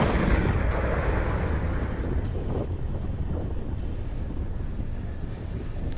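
Bombing strikes on the outskirts of Beirut, a continuous heavy low rumble with booming blasts and roaring noise, loud throughout with no clear gaps.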